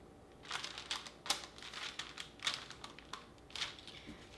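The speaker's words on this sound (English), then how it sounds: "Just cut in with a pizza roller and go in" A pizza roller slicing strips through puff pastry, giving a series of quick, light crisp clicks and crackles in an uneven rhythm, close and fairly quiet, with no voices.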